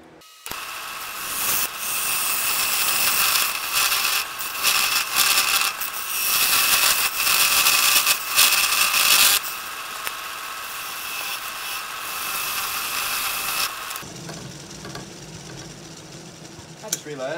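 A lathe tool hollows out a cedar wood beer stein, giving a loud, continuous rough cutting and scraping roar with uneven surges, easing to a quieter mechanical whir near the end.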